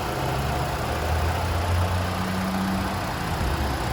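A 2018 Hyundai Kona idles steadily with a low, even engine hum and a faint drone throughout, no knocks or squeals standing out and no talk over it.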